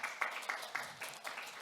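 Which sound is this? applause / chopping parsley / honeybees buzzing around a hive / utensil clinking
applause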